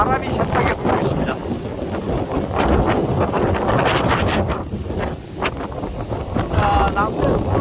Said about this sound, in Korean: 몸을 가누지 못할 정도로 바람이 세차게 불고 있습니다.